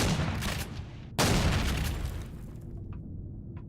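Automatic anti-personnel turret fire in the space survival game Empyrion Galactic Survival, a dense rattling burst of shots that jumps louder midway, then tails off into a steady hum with a couple of faint clicks.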